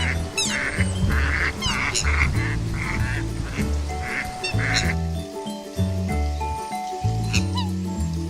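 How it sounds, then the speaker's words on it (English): Ducks quacking in a farmyard, a run of repeated nasal calls close by over a busy background of other farm sounds. "The mallard is an example of a dabbling duck."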